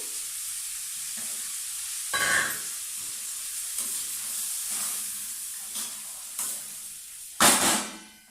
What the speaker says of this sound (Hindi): अब मैं इनको दूसरे बर्तन में ट्रांसफर करती हूँ